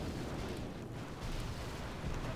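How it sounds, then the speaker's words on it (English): Relentless artillery barrage in the mobile strategy game Boom Beach: a dense, continuous roar of overlapping explosions and booms with no pauses, loud and steady throughout. "Those barrages are just relentless."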